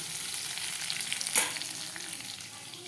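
Diced potato and pointed gourd fry in a pan with a steady, close sizzling hiss that holds throughout, briefly swelling into a sharper crackle midway.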